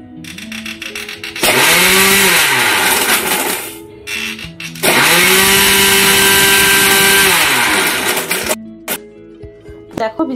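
Marie biscuits are ground into a fine powder in an electric grinder, two loud sustained whirring bursts with a rising and falling motor pitch, separated by a brief pause and followed by rattling.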